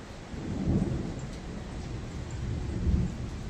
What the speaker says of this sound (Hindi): जोरे वर्षा है